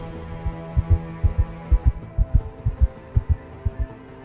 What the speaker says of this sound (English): my heart pounding